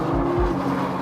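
A 2013 Nissan GT-R Black Edition cornering under heavy throttle, its engine droning steadily and close with a low rumble throughout, no voices over it.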